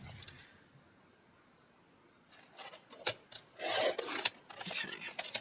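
Paper being trimmed for a handmade Christmas recipe album: after a quiet pause, a run of close, raspy sliding scrapes and rubs of a blade across the sheet, irregular and growing louder toward the end.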